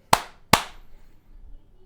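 Two sharp hand claps about 0.4 seconds apart, close and loud, each with a quick decay, used to control a Mac through the iClapper app; faint room noise follows.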